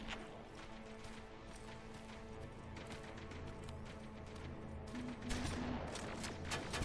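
A turret firing in the shooter game Terminator: Resistance: dense, rapid automatic bursts that rattle on steadily, growing slightly louder near the end.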